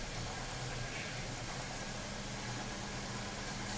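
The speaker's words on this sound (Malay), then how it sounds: "Kita gunakan motor je untuk memusingkan transmission ni." Electric motor spinning the internals of an opened CVT transmission, the engine idea simulated with gears not engaged, giving a steady, dense mechanical whir and hum with a low drone throughout, constant and close.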